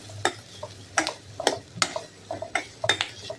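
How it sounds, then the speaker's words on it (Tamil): Fried soya chunks tipped into a pan with onions and oil, a series of crisp clattering taps and scrapes against the metal at irregular intervals, close and fairly quiet. "இப்போ இந்த வறுத்து வச்ச இந்த சோயாவை கொட்டிடலாம்"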